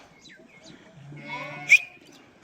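Sheep and lambs bleat close by, a few short calls rising into one louder, wavering bleat near the end over quiet background.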